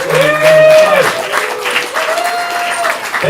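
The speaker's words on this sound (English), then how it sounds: "Give it a big round of applause, ladies and gentlemen." A stand-up comedy showcase audience claps for the comedians, a short burst of applause heard under an announcer's voice.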